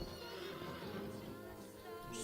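A horse in the video game Red Dead Online whinnies loudly and close over a dense game soundscape, with a faint hint of hooves.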